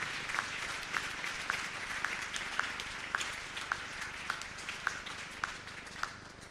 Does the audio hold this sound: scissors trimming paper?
no